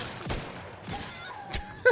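Gunfire in Outer Worlds 2 as shots go through bushes, a few sharp separate reports spaced about half a second apart, moderately loud and not overlaid by talk.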